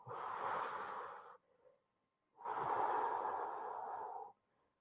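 Two long, loud breaths taken during a stretching exercise, a steady breath lasting over a second, then after a short pause a longer, fuller exhale, close to the mic with no talking.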